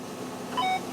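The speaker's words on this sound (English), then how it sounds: "it's beeping there now because I'm slightly closer on the tram line to one side" A tractor's fertiliser spreader guidance system gives a short, faint electronic beep of a few quick tones over the steady low hum of the cab.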